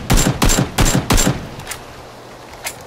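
AK rifle fire in PUBG: four loud close bursts in quick rhythm, then fainter scattered shots trailing off, with no talk over it.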